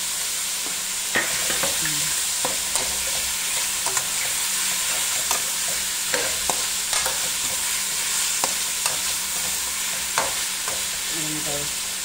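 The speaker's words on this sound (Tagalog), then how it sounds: "Haluin natin ang manok." Chicken frying in a pan for bihon is stirred with a utensil, seasoned with black pepper and salt. A steady sizzle runs throughout, broken by sharp scraping clicks from the stirring, close and with no talking.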